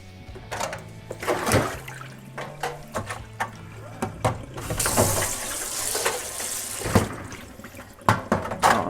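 Tap water runs into a shallow photo-processing tray to make a water bath for cyanotype toning, a steady broadband rush with splashing bursts, louder in the second half, with brief talk over it.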